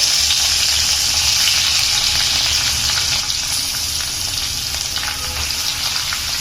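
Bitter gourd fries in hot oil over a high flame, giving a dense, loud, continuous sizzle and crackle that stays steady throughout, with no talking.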